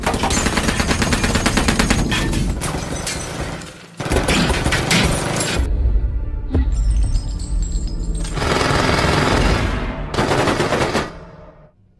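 Loud bursts of rapid automatic gunfire, several long volleys separated by brief pauses, with a sharp single crack and ringing in between.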